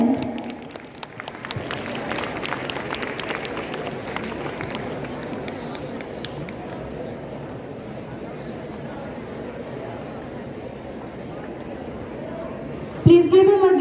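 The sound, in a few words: audience applause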